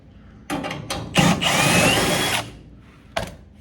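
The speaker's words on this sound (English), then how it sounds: "I'm gonna take that screw back out." A power drill backing out a screw from a metal replacement panel whirs in a few short bursts, then runs steadily for about a second before stopping, followed by a brief final burst.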